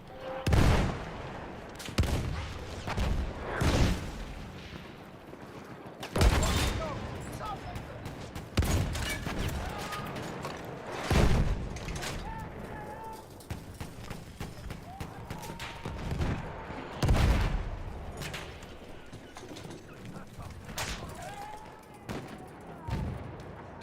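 Gunfire in an online objective-based shooter video game rings out as a series of sharp, loud shots and bursts scattered through the stretch, with quieter firefights in between and a player's voice talking over it.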